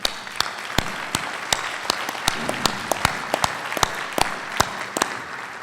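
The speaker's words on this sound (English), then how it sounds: "just give you a round of applause for that" An audience at an agriculture industry conference applauds the US Agriculture Secretary, with sharp individual claps standing out over a softer bed of steady clapping that keeps an even level throughout.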